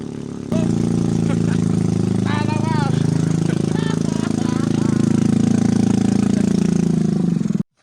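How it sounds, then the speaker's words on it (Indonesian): An automatic motorcycle strains uphill on a steep mountain road to the Gunung Salak basecamp via Cimelati, its engine a loud, steady drone that holds for about seven seconds before cutting off abruptly. "Motornya coba naik dulu, cari sela-sela landai, supaya bisa coba gaspol nanjak lagi."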